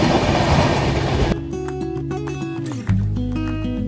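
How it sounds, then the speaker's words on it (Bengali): A passenger train pulls into a station in West Bengal on the way to Ghatsila, a loud rumbling roar for about a second before music takes over. "এইখানে কিন্তু পশ্চিমবঙ্গের মধ্যে এই ট্রেন শেষ করলো স্টপেজ।"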